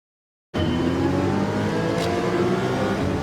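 A GT-R race car in Gran Turismo 7 roars past during a Manufacturer's Cup race, a loud, continuous engine drone with rising pitch and tire noise that starts abruptly and holds steady throughout.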